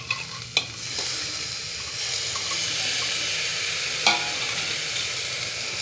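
Tomatoes cooking in a pan with steady close sizzling and frying throughout, marked by a couple of sharp stirring clatters, one early and one near the end, with no talking.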